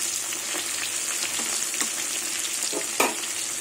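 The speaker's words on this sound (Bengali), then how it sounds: "এইভাবে সব মাছগুলো ভেজে নিলাম" Rohu fish pieces fry in hot oil with a steady, close sizzle, scattered pops and crackles, and one sharper spit near the end, with no voices.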